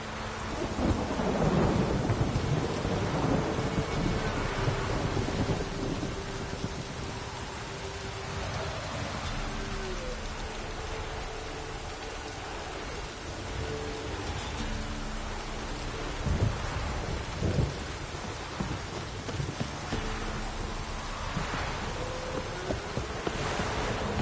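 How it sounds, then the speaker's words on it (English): Thunderstorm in the video game The Witcher 3: a loud rolling thunder crash from a lightning strike at the start, then steady heavy rain with distant rumbles and low tones, no voices. "Lightning strike."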